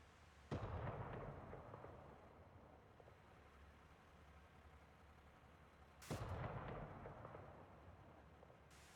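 Two heavy JSOW bomb explosions in the DCS F/A-18 flight simulator, each a sudden loud boom with a long rumbling tail, spaced about five seconds apart with no talk.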